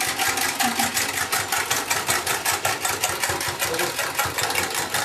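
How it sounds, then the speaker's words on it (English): Electric hand mixer whirring steadily as it beats icing sugar in a bowl, a continuous close buzzing with a rapid regular pulse. "Oh, he's got the hand mixer."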